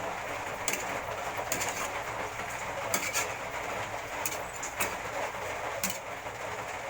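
Light drizzle falls on a noisy roof, making a steady broadband patter and hiss with occasional sharper taps throughout, with no talking.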